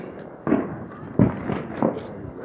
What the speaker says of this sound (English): Fireworks everywhere